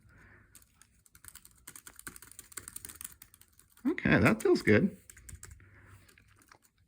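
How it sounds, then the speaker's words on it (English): A Cherry Stream keyboard with quiet scissor switches being typed on, soft light clicking that runs under a man's speech and becomes a brief louder flurry of taps. "what about these Cherry scissors switches"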